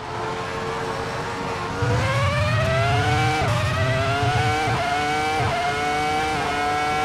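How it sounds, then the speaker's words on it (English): A Ferrari F2004 Formula One car with a 3-litre V10 screams at high revs on the Red Bull Ring, loud and close, with rising pitch sweeps broken by quick upshifts and a steady, piercing engine wail throughout. "Just listen to that tiny little, I think, 3-liter V10 scream."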